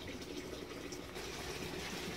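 Water from a koi fish tank is poured onto plants in a greenhouse, making a continuous soft splashing gush that stays steady throughout and is fairly quiet.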